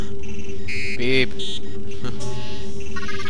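Electronic beeps from the Paper Mario: The Thousand-Year Door video game: a string of short, bright synthetic tones that are loud and alone, layered over steady game music.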